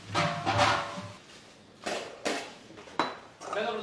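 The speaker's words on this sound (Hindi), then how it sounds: "और अब इसको ऊपर से ढक दिया जाएगा" A metal lid goes over a pot of Kerala-style biryani layered with fried onions, giving a few scattered clanks and scrapes of metal on metal nearby, with soft gaps between them.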